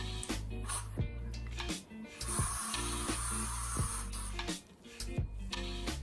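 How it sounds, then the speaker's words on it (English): Several short hissing sprays from an aerosol can of firm-hold hairspray applied to hair, bursts of varying length close by, separated by brief pauses with faint rustling. "I'm just gonna spray this over my hair"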